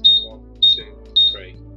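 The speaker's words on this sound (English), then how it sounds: "To put the smoke detector into pairing mode, we press the small button that's on the front 3 times." Xiaomi Honeywell smoke detector giving three short, loud electronic beeps in an even rhythm as its front pairing button is pressed, heard close up over a low background hum.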